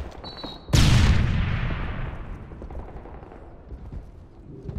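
A grenade detonates in Call of Duty: Modern Warfare 3 during a Search and Destroy match, a sudden loud boom with a long rumbling decay that fades over several seconds.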